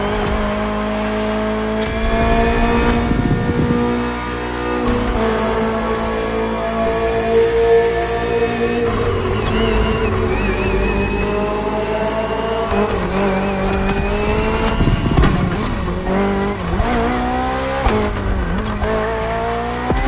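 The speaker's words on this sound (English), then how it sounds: "The BMW M Hybrid V8. What a beast." A BMW M Hybrid V8 endurance race car in The Crew Motorfest roars loudly and steadily, its engine note climbing and dropping through gear shifts, with tire squeals and skids breaking in repeatedly.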